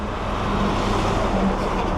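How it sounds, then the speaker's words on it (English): Continuous road noise from heavy trucks and cars passing on a busy road, a steady broad rumble with no distinct breaks and no voices. "that's why you see all of these heavy trucks coming down through here along with the cars"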